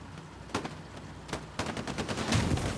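Tank guns fire in a World War II game battle between a Panzer IV and a Sherman. Several sharp, booming shots fall irregularly, with a denser burst of gunfire toward the end over a constant battlefield rumble.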